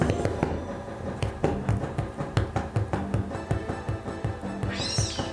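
A house cat gives one short meow near the end, after a run of soft, rhythmic tapping and clicking sounds close by.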